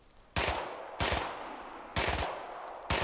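Machine gun fire in the zombie video game Contagion: four loud, close bursts, each a short rattling volley, spaced about a second apart, with no talk.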